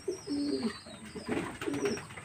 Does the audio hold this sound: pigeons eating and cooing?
yes